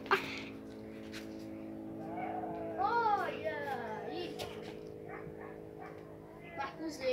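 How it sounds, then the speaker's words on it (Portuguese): A female dog barks and whimpers with a few short yips over steady background hum, while people talk nearby. "tem uma cachorra que fica ali, né?"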